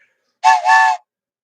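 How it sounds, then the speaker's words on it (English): A single loud, sharp train whistle blast, about half a second long with a brief dip in the middle, then silence. "your cat doesn't like the train whistle"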